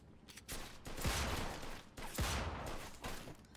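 Magnum revolver gunfire in Mafia II cracks out as two loud, close shots, each with a broad, noisy blast and trailing echo about a second apart.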